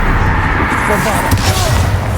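Bombarda blasting spell in Hogwarts Legacy, a loud, dense burst of booming combat noise with a sharp crack near the middle, sustained throughout with voices over it.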